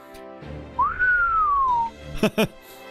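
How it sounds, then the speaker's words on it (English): A single clear whistled note from the character Da Vinci in the Fate/Grand Order video game glides upward, then slowly falls over about a second. A couple of short, sharp game sound effects follow. "Why is Da Vinci always whistling?"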